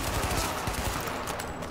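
Rapid, continuous gunfire with dense crackling bursts, loud and unbroken, like automatic weapons firing in the video game The Division.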